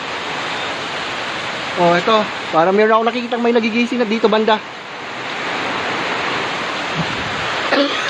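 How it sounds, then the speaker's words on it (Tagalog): During Typhoon Ulysses, water pounds with a steady broadband roar that runs throughout, with someone talking close by over the rushing wash partway through. "grabe yung hampas ng hampas ng tubig"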